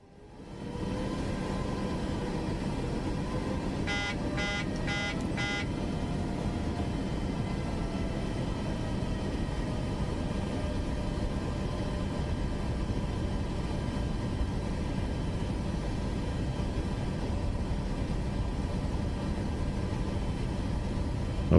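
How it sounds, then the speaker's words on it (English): A brief burst of four quick cockpit warning beeps in Microsoft Flight Simulator 2024 rises over a constant airliner engine roar that continues alone for a long stretch afterward. "Stop beeping at me."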